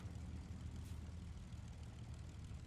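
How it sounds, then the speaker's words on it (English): A Hawker Hurricane's propeller engine in a flight game drones steadily with a low, continuous roar that holds even and close throughout, with no talk. "Why is my engine spooling up?"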